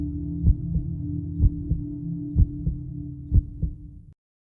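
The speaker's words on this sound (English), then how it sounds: "The first night, the halls were so quiet I could hear my own heartbeat." A slow, heavy heartbeat thumps steadily over a low droning hum, the paired beats repeating about once a second, loud and close, before everything cuts to silence near the end.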